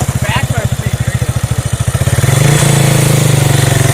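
A Yamaha Warrior 350cc quad engine idles with a steady rapid putter, then revs up to a louder, fuller drone that holds. It is close and prominent, and no one talks over it.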